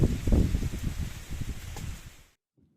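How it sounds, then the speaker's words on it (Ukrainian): Gusty wind on a cold autumn day rustles through fallen dry leaves in a steady noisy wash, buffeting close to the microphone, then cuts off abruptly into silence. "От дивіться, який у нас вітер сьогодні."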